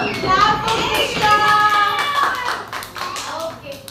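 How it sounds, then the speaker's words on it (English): Children in a classroom clap for a classmate, a brief burst of quick uneven claps mixed with a voice and an adult speaking. "Clap for Krishna."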